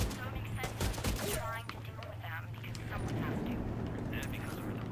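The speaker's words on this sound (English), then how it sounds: "Actually, this is a burst fire weapon." Rapid two-round bursts from a burst-fire rifle in the Division 2 video game, sharp cracks repeating in quick pairs over a steady game soundscape, with a voice talking over the shooting.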